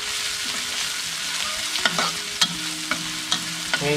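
Garlic and chillies are stir-fried for Thai Shan-style yellow noodles, a continuous close sizzle broken by repeated scraping and clacking strokes of a spatula in the pan.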